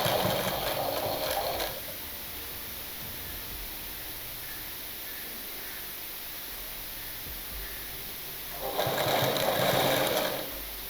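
Fabric for a three-dart cut blouse runs under the presser foot of an electric sewing machine, which whirs in two bursts at the start and end, separated by a quiet pause.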